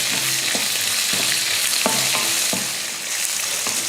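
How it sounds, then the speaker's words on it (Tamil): Chopped onion sautés with ginger in a pan for chutney: a dense, loud, continuous sizzle with a few evenly spaced scraping stirs of a spoon, close up and without voices. "சின்னதாக ஒரு வெங்காயத்தை எடுத்து கட் பண்ணியிருக்கேன் அதையும் போட்டு வதக்கிட்டு"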